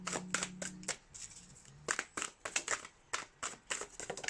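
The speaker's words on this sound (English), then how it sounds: "I'm going to shuffle this 2 more times." A tarot deck is shuffled by hand in a quiet close-up, with a run of soft, crisp card riffles and taps. The rhythm is irregular, the sound stays near, and no voice is heard.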